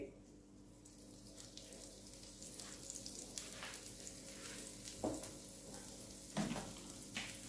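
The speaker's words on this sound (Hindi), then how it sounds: "इस पे थोड़ा सा ऑयल डालते हैं, बिल्कुल स्लो हीट पे रोस्ट कर रही हूँ" Aloo paratha roasting in a little oil over slow heat on a griddle, a soft steady sizzle under a low hum, with a few louder scrapes and thumps as it is moved.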